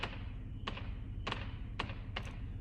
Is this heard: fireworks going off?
yes